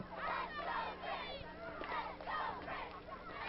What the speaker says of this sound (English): Hobart crowd getting behind their team